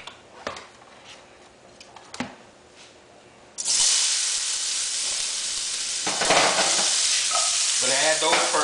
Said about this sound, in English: Our pan is nice and hot, so we're going to add our carrots.